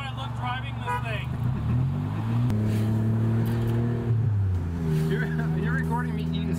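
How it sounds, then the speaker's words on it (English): A JDM car's engine rises and drops through several rev changes while driving, with hissing bursts from a blow-off valve between shifts and people talking over the engine noise inside the cabin. "other than constant blow-off valve noise, this is a really nice drive for me"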